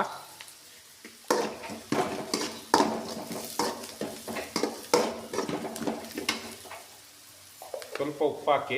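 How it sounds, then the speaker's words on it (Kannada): Onions frying in a pan for vermicelli upma, stirred with repeated scraping strokes and clinks of a spoon against metal over a soft sizzle, with a short spoken instruction partway through. "ಈರುಳ್ಳಿ ಚೆನ್ನಾಗಿ ಫ್ರೈ ಆಗಿದೆ"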